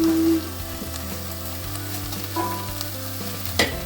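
Salmon curry in coconut milk sizzling and frying in a pan, a steady close crackle with faint utensil clinks, no talking.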